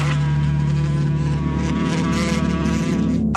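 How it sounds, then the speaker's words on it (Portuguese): Flies and mosquitoes buzz loudly and continuously close to the ear, a dense whining drone with a steady low hum underneath. "As moscas e os mosquitos estão nesse planeta há muito mais tempo que qualquer um de nós."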